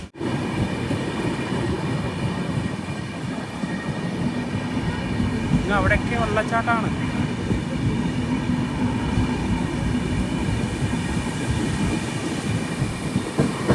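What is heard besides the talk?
Konark Express train travelling Mumbai to Pune in monsoon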